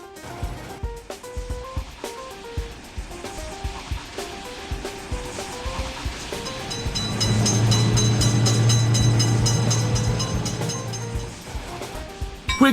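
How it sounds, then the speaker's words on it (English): In a level-crossing railway game, a train approaches with rhythmic clacking, then sounds a long loud horn as it thunders past the crossing, the rolling roar building and easing toward the end. "Train is coming."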